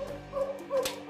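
An anti-poaching scent and attack dog at a Rwandan park gives a few soft, close whimpers and yips, thin and high-pitched, with no barking.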